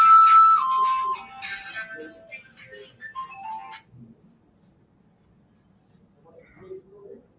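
A phone ringtone plays a bright descending melody for several seconds during an online business conversation, then cuts off into near silence with faint handling noises.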